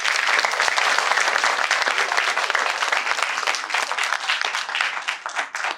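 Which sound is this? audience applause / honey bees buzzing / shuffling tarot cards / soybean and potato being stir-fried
audience applause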